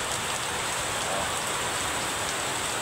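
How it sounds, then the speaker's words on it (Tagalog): Steady rain falls near a pier, a dense, even hiss of drops striking surfaces that stays loud and unbroken throughout, with no talking. "Wala na inabot tayo ng ulan."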